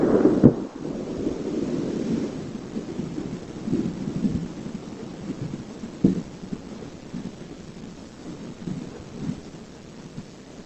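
Hunga Tonga volcanic eruption sound recorded in Alaska: distant low rumbling booms and thuds, irregular and muffled like far-off thunder, over a steady windy background hiss.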